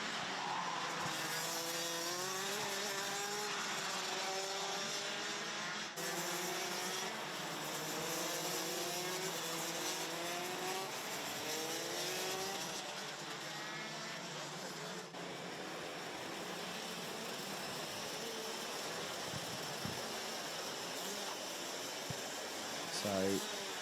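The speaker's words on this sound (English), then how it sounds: "I think we are going to get under starters orders because the revs are starting to rise." Rotax DD2 racing kart engines at a Euro Golden Trophy final race start, a dense pack revving and rising in pitch in waves, loud and continuous, with a commentator talking over them.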